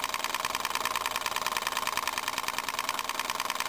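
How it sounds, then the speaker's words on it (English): A P.T.C. power tire pump driven by a 1915 Century electric motor runs steadily, making a fast, even mechanical chugging with a bright whirring hum, close and continuous with no voices. "This is a pretty slow pump. It doesn't put out a high airflow rate or anything."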